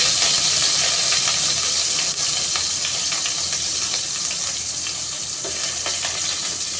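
Ginger paste frying in a pan gives a loud, continuous sizzle with bright steamy hiss and faint stirring scrapes throughout, no voices present.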